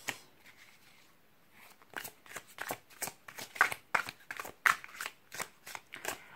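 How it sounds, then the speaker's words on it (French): Tarot cards are shuffled and drawn by hand, a fast run of crisp riffling flicks and slaps close up, starting softly and growing into rhythmic bursts. "on ira tirer d'autres cartes"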